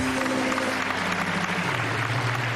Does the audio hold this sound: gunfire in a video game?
no